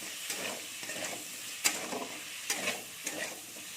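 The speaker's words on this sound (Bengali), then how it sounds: "আলুগুলোকে একটু লাল লাল করে আমি ভেজে নেবো" Potatoes fry in a little oil, browning with a steady close sizzle, while a spatula stirs and scrapes the pan in a few sharp clinks.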